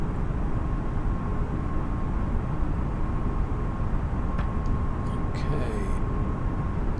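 A Lufthansa A320neo airliner climbing after takeoff in Microsoft Flight Simulator 2020, its engines a steady, unbroken roar throughout, with a few faint clicks near the end.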